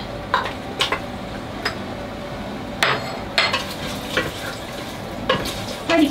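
Chicken crackles and sizzles in hot sesame oil in a pan for a Taiwanese chicken-wine dish, with steady frying hiss and intermittent scraping stirs of a utensil against the pan, moderately close and without talk.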